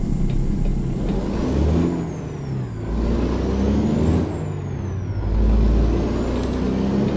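The heavy truck engine in American Truck Simulator drones loud and continuous, its pitch rising and falling as the engine revs through gear changes.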